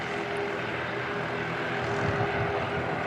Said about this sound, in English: Love the sound of those engines.